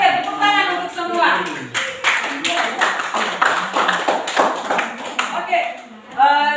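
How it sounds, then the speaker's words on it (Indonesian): A classroom of students claps hands in scattered, uneven bursts, with children's voices and a teacher talking over and between the claps. "Oke, tepuk tangan untuk semua."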